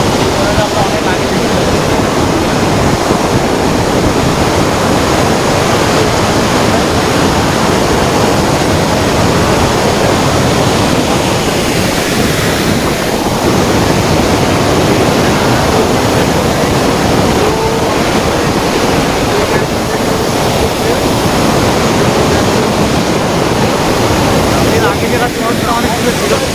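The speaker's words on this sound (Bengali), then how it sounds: "জলের আওয়াজ বেশি" A waterfall at a scenic spot in Tamil Nadu roars loudly and continuously, a dense broadband rush of falling water, near and steady throughout.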